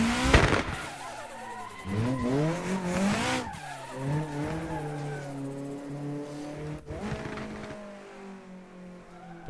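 Car drifting in a sim racing game, engine revving and rising in pitch with tire squeal and skidding across the corner, loud and continuous with no talk.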